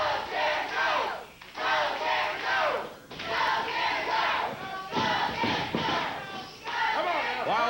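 A wrestling studio crowd chants in rhythmic unison for Jerry Lawler, loud repeated shouted phrases rising and dropping in waves with brief gaps between rounds.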